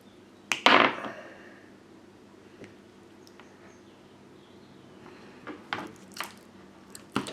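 Cutters snip off the cable end of an Xbox 360 Rock Candy controller, a sharp close crunching cut near the start, then quiet with a few small clicks and handling taps later, no talk.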